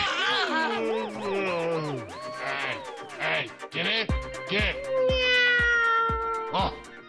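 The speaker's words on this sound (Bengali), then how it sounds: "বিড়ালগুলো একটু শান্তিতে ঘুমোতেও দেবে না" Cartoon cats from the Bangla animated series Nut Boltu yowl and meow at night in long, rising and falling wails, several cries overlapping loudly one after another.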